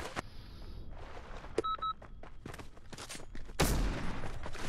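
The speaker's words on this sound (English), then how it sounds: "Dude, why am I reloading a shotgun?" Gunfire in Fortnite, including shotgun blasts, with a sharp loud shot near the end, scattered quieter shots and clicks, and a brief two-tone beep over steady game background noise.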